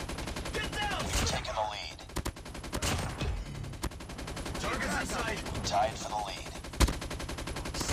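Bursts of automatic gunfire and single shots in Call of Duty Mobile, sharp cracks and rapid volleys scattered across the clip, mixed with game effects and excited voices talking over the action.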